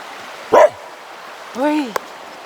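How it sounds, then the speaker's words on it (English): A dog gives a sharp bark outdoors by a river campsite in Australia, followed by a second drawn-out, wavering bark that rings and fades like an echo across the valley, with a brief click after it. "His bark echoed through the valley."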